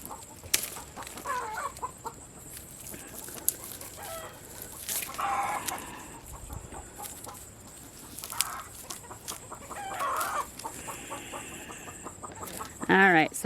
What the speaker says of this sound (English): My chickens are noisy this morning.